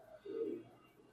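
A male racing pigeon gives a single soft, low coo, faint and brief against a quiet background.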